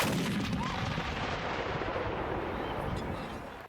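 Artillery mortars fire at a historical artillery games event, a dense rolling rumble of distant booms that overlap into a continuous roar.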